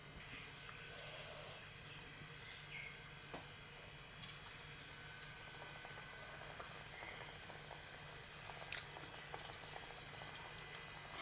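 Wheat flour snack pieces fry in hot oil with a steady, faint bubbling patter and sizzle that continues without a break, plus occasional small clinks.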